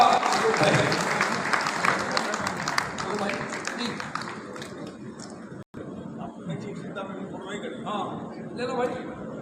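Applause at a Hindi journalism day award ceremony in Gorakhpur, a crowd clapping loudly at first and then thinning out, with voices and chatter continuing underneath.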